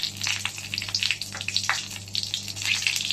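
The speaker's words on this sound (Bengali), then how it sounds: "আলু ভাজার তেলেই আমি একটা শুকনো লঙ্কা চিড়ে দিলাম" A split dried red chilli fries in oil left over from frying potatoes, crackling and popping in quick irregular bursts over a moderate, continuous sizzle close by.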